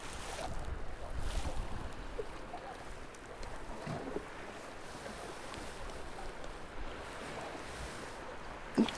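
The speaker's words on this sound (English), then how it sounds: "wind's picked up quite a bit" Steady wind buffets outdoors over water from a fishing boat, a broad rumbling gusty noise with faint lapping, no voices.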